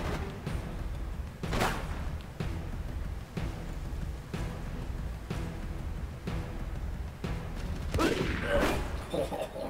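Gunshots in the shooter video game Rogue Warrior, several loud sharp bangs spaced a second or so apart over a steady game soundscape, with a denser burst of fire near the end.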